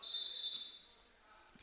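A referee's whistle shrills once at a boys' high school basketball game in a gym, a clear high-pitched blast of under a second that fades into faint crowd ambience.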